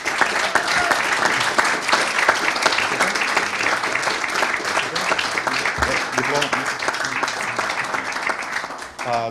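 A conference audience at the Belgrade Security Forum applauds the prize-winning streamers: sustained, even clapping throughout, with voices talking over it.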